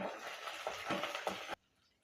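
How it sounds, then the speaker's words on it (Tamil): Chillies and black gram sizzle and crackle in a hot pan with steady frying noise and occasional stirring scrapes for South Indian tiffin sambar, then the sound cuts off abruptly. "இப்போ வதக்கிக்கலாம்"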